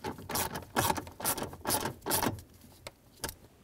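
A ratchet tightening screws on a bracket inside a 2003-2008 Toyota Corolla, heard as a series of close, sharp clicking bursts in a regular rhythm, about five strokes followed by a few fainter clicks.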